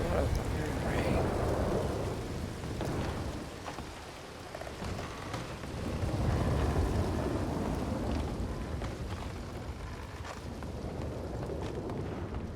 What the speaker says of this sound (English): there's a lot of fucking rain